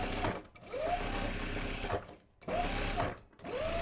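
A sewing machine runs close by, stitching a blouse seam in short bursts, with brief pauses where it stops and restarts.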